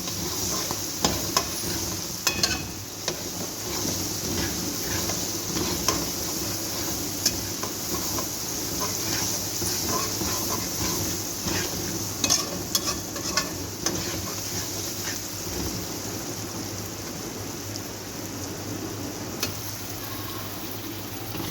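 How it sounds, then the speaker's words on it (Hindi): Chopped potatoes are stirred and fried in a pot for a vegetable palao, giving a continuous sizzle with repeated scraping stirs and clinks throughout, close and fairly loud, with no talking. "ये मैंने जो एक पाव आलू लिए थे इसको छोटा छोटा काट लिया था, इसकी भी 2 मिनट बुनाई करेंगे"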